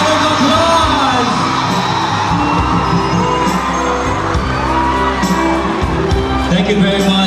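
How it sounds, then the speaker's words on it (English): A large crowd at the Unduk Ngadau pageant during Fiesta Kaamatan in Sabah, Malaysia, cheering, whooping and yelling loudly and continuously for a contestant, with an announcer's voice amplified above the noise. "Good round of applause!"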